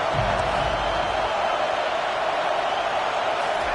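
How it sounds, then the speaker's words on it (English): Steady broadband roar of a football stadium crowd cheering and making noise to keep the opposing team pinned deep in its own end, continuous and loud with no distinct voices. "this crowd trying to help keep them there"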